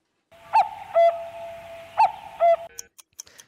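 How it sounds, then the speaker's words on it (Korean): A cuckoo-call sound effect played on a radio show: two pairs of clear two-note cuckoo calls, loud and close in an otherwise quiet studio, followed by a few brief clicks. "뻐꾸기 나가면 해주세요"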